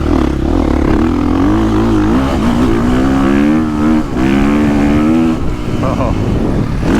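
A 2023 KTM 450 SX-F motocross bike engine revs hard and close, holding a loud, steady roar with rising and falling pitch sweeps throughout.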